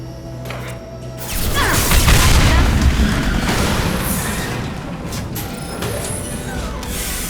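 Fuel tanks blowing up in Mass Effect Legendary Edition: after a brief lull, a loud, close explosion bursts in and rolls on into a long, thick rumble of debris and fire that slowly fades.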